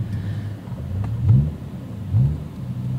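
A 2007 BMW M5 E60 with its naturally aspirated V10 idles low and steady, then blips twice in short revs, each rising briefly above the rumble before settling back, heard up close with no talking.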